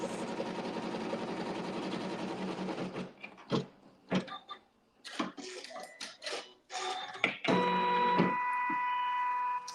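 A sewing machine stitches a fabric seam with regular sewing thread: a dense, steady whir for about three seconds, a run of short bursts and pauses, then a sustained, even motor hum to the end.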